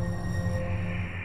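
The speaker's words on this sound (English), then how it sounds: "This is the sound of interstellar space." A steady, low droning hum with faint high tones above it, continuous and unchanging, a Voyager space probe recording of interstellar space with no voices.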